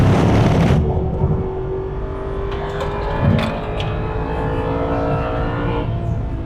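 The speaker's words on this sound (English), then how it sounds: "What a lovely noise this car makes." Aston Martin V8 Vantage on track at Mallory Park: a loud engine surge at the start, then a steady droning V8 tone that eases and shifts pitch as the car runs on, heard from close by without talk.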